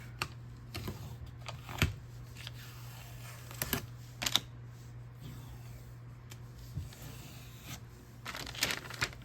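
A stencil being peeled off a surface, starting from a corner: faint, scattered crinkling and tearing crackles in short bursts against a quiet background hum, with no talk.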